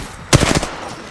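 Rapid gunfire erupts in a video game firefight, a short burst of several loud, close shots fired in quick succession.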